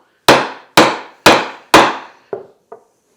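Four loud, evenly spaced chisel blows into end grain wood ring out, each a sharp woody crack with a short decay, followed by two lighter taps.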